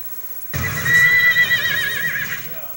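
A wild horse on an American prairie lets out a loud, shrill whinny that rises and wavers for about two seconds, close up, over faint hoof clops and a low rumble, with no talk.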